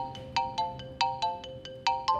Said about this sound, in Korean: 추가로 주디의 핸드폰 벨소리는